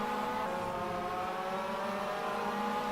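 A Clio Cup race car engine in rFactor holds a steady, droning high-revving note at Snetterton, loud and continuous with layered harmonic whine throughout.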